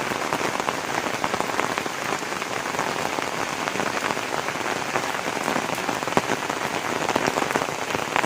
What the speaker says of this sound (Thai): เพราะว่าฝนมันตกนะคะ